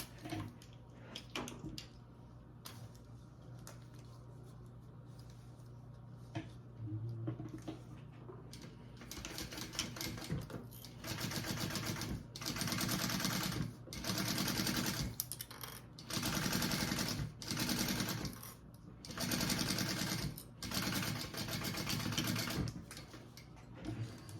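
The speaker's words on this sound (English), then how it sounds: "now I'm gonna sew that on at my full seam allowance." A sewing machine stitches a bag seam at full seam allowance in repeated bursts of rapid mechanical whirring, starting and stopping several times after some quiet handling of fabric at the start.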